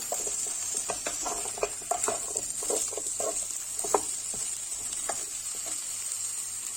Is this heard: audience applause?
no